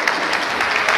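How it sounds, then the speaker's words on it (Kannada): Brief, lively applause from an audience at a free training event on small businesses such as paper plates and incense-stick making, a crowded patter of hands lasting about a second and a bit louder than room level. "ಸೊ ಆ ತಾಯಿಗೂ ಒಂದು ಚಪ್ಪಾಳೆ ದಯವಿಟ್ಟು"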